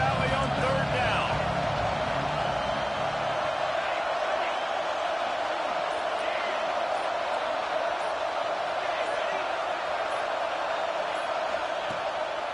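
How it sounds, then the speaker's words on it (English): A big stadium crowd in Happy Valley roars on third down during a Penn State versus LSU college football video game, a dense, sustained wall of cheering noise at steady loudness throughout. "Here comes the noise from this big crowd in Happy Valley on 3rd down."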